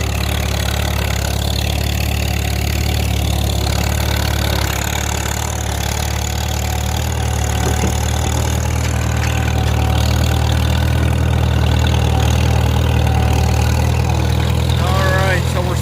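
A Farmall M tractor runs steadily while pulling a disc through wet, soggy ground, a loud continuous low engine drone with a person talking intermittently over it.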